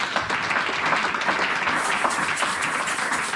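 Church congregation applauding and cheering for Jesus during a service, a dense, steady wash of clapping that fills the room without letup.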